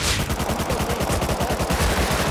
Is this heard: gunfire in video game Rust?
yes